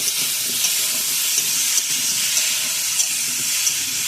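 Ginger sizzles and fries in a hot pan, giving a steady close hiss that runs unbroken, with faint crackles and no voices.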